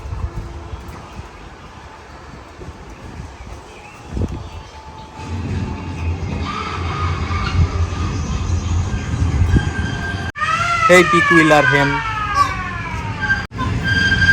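A small children's amusement park train at Sheikh Russel children's park rumbles along toward a ghost-cave ride, growing louder before a bright, sustained horn or siren-like signal sounds near the end over the park's background noise.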